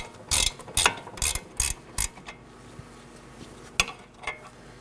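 Ratchet wrench clicking off the outer tie rod end nut on a 2018-2024 Chevrolet Equinox, several quick bursts of metallic ratcheting in a row, then a couple of softer clicks, close and clear.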